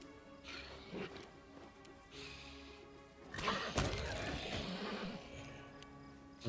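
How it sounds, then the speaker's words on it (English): A horse in the game Pathfinder: Wrath of the Righteous lets out a neigh amid clattering, moderately quiet in-game sound effects, with brief thuds and a louder burst partway through. "The horse."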